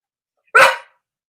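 A dog named Dexter lets out one loud, sharp bark, close by and alone, with silence on both sides of it.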